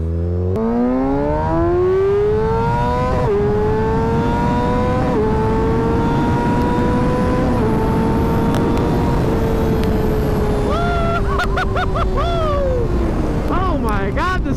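A motorcycle engine revs up, its pitch climbing and then holding a loud, steady drone, with a few brief whines and blips near the end.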